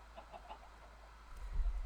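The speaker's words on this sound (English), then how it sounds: "Look at this chicken waterfall." Minecraft chickens cluck softly in short clustered bursts at a waterfall, fairly faint over a low rumbling game background that swells toward the end.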